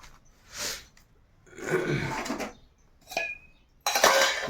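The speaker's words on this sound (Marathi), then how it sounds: "भांडी घासून काढतो आता" Dishes, pots and pans clatter and scrape while being washed by hand at home, in separate bursts of clinking metal with short pauses between them, close and fairly loud.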